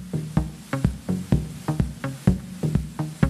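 Drum machine rhythm set to three hits spread across eight pulses, giving a syncopated, lopsided groove of pitched electronic thumps repeating at close range without any voice.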